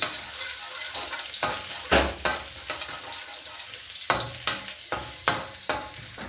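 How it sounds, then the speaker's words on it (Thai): Garlic frying in a pan of oil for a Thai jaew makhuea dip, a continuous hiss of sizzling broken by sharp stirring scrapes and clatters of a utensil against the pan. "เราเอากระเทียมมาเจียว เจียวให้หอม"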